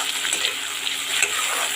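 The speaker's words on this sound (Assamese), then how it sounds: "আৰু এতিয়া আমি ভালদৰে বিলাহীখিনি সিজাই ল'ম।" Tomatoes fry in a hot pan, giving a steady bright sizzle with soft scraping from stirring throughout, close and alone with no talking.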